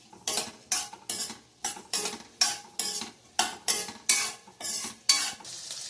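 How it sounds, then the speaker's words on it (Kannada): Capsicum pieces fry in butter with a little oil for a Kashmiri paneer curry, heard as a run of about a dozen rhythmic stirring scrapes over a soft, steady sizzle, close and fairly loud, with no talking. "ಬೆಣ್ಣೆಯಲ್ಲಿ ಒಂದು ಸ್ವಲ್ಪ ಎಣ್ಣೆಯಲ್ಲಿ ಸ್ವಲ್ಪ ಫ್ರೈ ಮಾಡ್ಕೊಬೇಕು."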